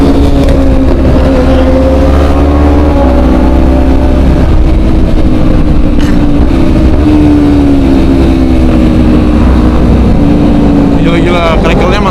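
A Honda CBR motorcycle engine revs loud and close, its droning pitch rising and falling through the whole stretch with rough exhaust crackle, while voices talk over it.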